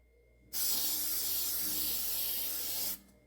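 An airbrush sprays sealant in a steady, continuous hiss of fine spray for about two and a half seconds, then cuts off cleanly, with near silence before and after.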